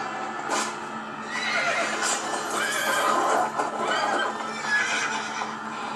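Horses in The Walking Dead whinny loudly amid a busy, noisy scene, with hooves clattering as the animals gallop off; no talking.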